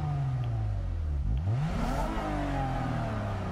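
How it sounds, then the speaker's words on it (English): Toyota Crown luxury sedan engine in the racing game Gran Turismo Sport, a low idle that climbs in a quick rising rev, drops, then sweeps up again with layered harmonic whine, close and alone without talk. "have that engine sound to be ready to go"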